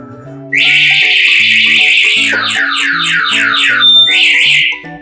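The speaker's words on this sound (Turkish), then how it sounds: "Alarmı durdurmazsanız alarmınız çalar. Ses desibeli çok yüksektir." A loud anti-theft alarm on an Akeso Yagi electric motorcycle blares continuously, cycling through rapid warbling whoops and rising-falling siren tones with beeping chirps, all at a piercing volume.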